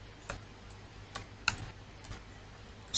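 A command typed on a computer keyboard: sparse, separate key clicks spaced irregularly over a quiet background, close and fairly soft, with no talking.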